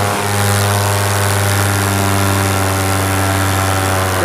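A paramotor engine runs steadily in flight, a loud close droning hum with a strong low buzz and propeller tone that holds even and unbroken throughout.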